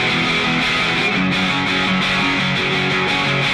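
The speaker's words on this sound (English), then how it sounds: "I'm going with this grit distortion pedal that comes as stock with Logic Pro" Heavily distorted electric guitar through Logic Pro's stock grit distortion pedal, gritty and saturated, playing sustained chords continuously at a loud level.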